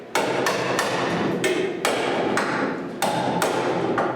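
Hammer beating a steel chassis rail into shape on a Mk 1 Escort, a series of loud, close metallic blows struck at an uneven pace over a ringing workshop background.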